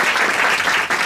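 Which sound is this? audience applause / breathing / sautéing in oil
audience applause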